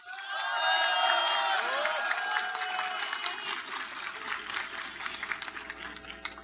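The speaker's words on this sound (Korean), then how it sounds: "따뜻한 박수 부탁드립니다." Warm applause and cheering from a crowd at a political speech, loud dense clapping that swells early and then thins slowly, with a voice over the top at the start.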